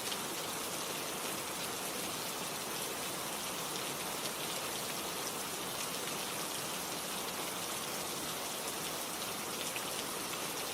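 Steady, dense rain pours without pause, a broad even hiss of drops striking surfaces, constant in level and close, with no voices or other sounds over it.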